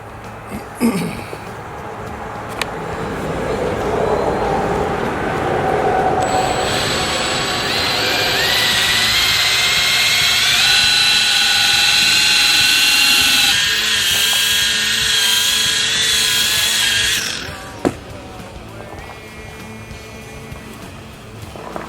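A polishing machine buffs swirl marks out of a surface using a fine polish and pad. Its loud, whining motor builds up, holds steady for about ten seconds, then spins down. Softer handling noises come before and after.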